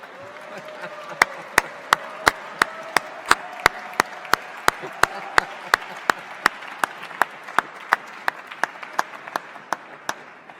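An audience at the 2016 MEP Awards ceremony claps in a steady, evenly spaced rhythm as a presenter takes the stage, with sharp beats over a low murmur and a faint sustained tone.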